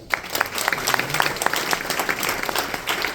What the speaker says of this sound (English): And it's another round of applause.